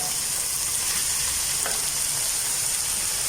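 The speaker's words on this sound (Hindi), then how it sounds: "और उबले हुए चावल डाल देते हैं।" Boiled rice sizzles and fries steadily in a pan for Chinese biryani, a dense continuous hiss with a brief scrape of stirring partway through and no talk.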